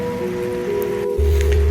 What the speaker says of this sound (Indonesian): Malam itu, hujan turun sangat deras.